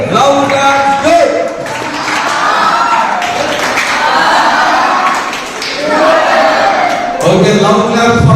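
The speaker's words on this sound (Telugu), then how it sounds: "Okay, love claps go." Crowd in a hall applauding the priests and guests at a Don Bosco celebration in Ramanthapur, Hyderabad: continuous clapping and cheering throughout, with a brief dip midway, and voices and a speaker heard over it.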